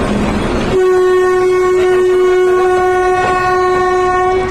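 A train horn blares loud and steady at the Joydebpur rail gate as a passenger train passes, a single long sustained blast that fills the clip after a brief rumble.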